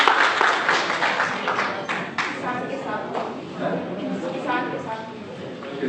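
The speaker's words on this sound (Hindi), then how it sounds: "ताली बजाओ मेरे जी" Guests clap at a book launch for a Hindi book on Gandhi to Modi, with brisk applause mixed with lively crowd chatter and voices throughout.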